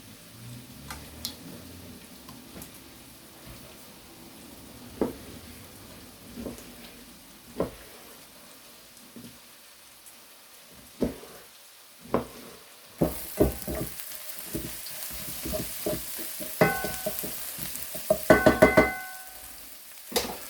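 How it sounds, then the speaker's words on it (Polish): Onion sizzles steadily in a hot pan, a soft constant crackle with occasional sharper ticks and pops, growing louder and brighter toward the end. "a potem mieszamy razem z naszą cebulką, która już się nam smaży."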